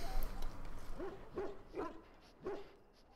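Dogs barking in the Dragon Age: Origins video game, four evenly spaced yapping barks at moderate distance over a low ambient game background, fading slightly toward the end.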